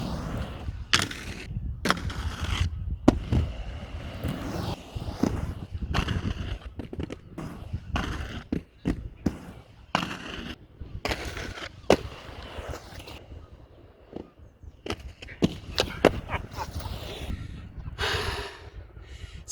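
Inline skates on a skatepark bank-to-ledge, with repeated rolling wheel noise, sharp clacks and scraping impacts scattered irregularly throughout, close and fairly loud.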